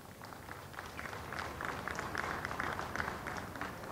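A crowd on the palace square in Monaco applauds at an outdoor national-day medal ceremony, a soft, distant, continuous patter of many hands.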